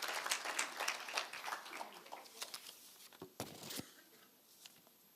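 Brief applause for Mr. Pohole at a City of Johannesburg skills development graduation ceremony, faint scattered clapping that fades out after a couple of seconds, leaving a few isolated claps.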